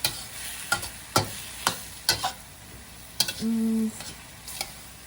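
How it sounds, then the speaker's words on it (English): A cabbage stir-fry stirred in a pan, with sharp, evenly spaced spatula scrapes and taps over a low frying sizzle and a brief tonal hum near the end, close by and without talking. "So open it and keep stirring it."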